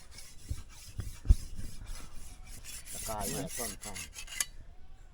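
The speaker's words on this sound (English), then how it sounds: "get the turnpike machete sharpened so we can do some more work before the sun really come out really hot" A file rasps along the blade of a turnpike machete in an outdoor backyard, with scraping strokes close by and a few knocks, ending on a longer run of steady filing.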